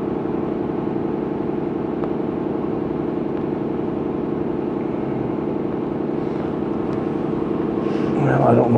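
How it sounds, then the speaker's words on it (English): An air compressor runs in a nearby garage stall, giving a steady, loud mechanical drone with a rough pulsing hum that continues unbroken, with a brief clatter of extra noise near the end. "Again, I apologize for the noise from the compressor."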